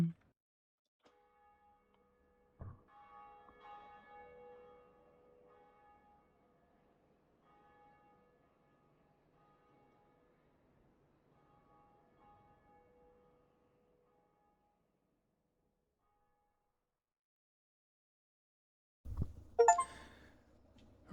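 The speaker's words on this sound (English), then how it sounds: "Ring the bell, Undead Church." A church bell in the Undead Church of Dark Souls Remastered strikes once and its ringing tone hangs and slowly fades over many seconds, followed later by a brief louder clatter.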